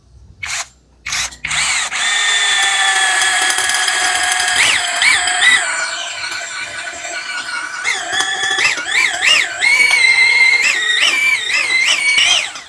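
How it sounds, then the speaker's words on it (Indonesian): A power drill boring through iron, a loud close whine that holds steady, then rises and falls in pitch as the trigger speed is varied. "Saya mainin ya triggernya ya, karena memang untuk pengeboran besi ini harus ada variasinya"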